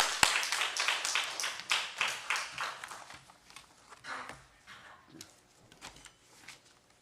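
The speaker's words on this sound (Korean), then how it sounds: "하나님께 영광의 박수 돌리겠습니다." A church congregation claps together during a Sunday afternoon worship service, sharp hand claps loud and rhythmic at first, then thinning into scattered, fading claps.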